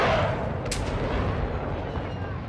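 Gunfire in the video game Call of Duty: Modern Warfare II, a dense booming rumble of shots and blasts with a sharp crack near the start, loud and continuous over the short stretch.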